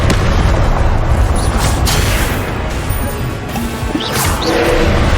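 Spell blasts from Expelliarmus and other wizard duelling spells in Hogwarts Legacy on Xbox One, loud repeated crashing impacts and booms in quick succession over a continuous roar of combat noise.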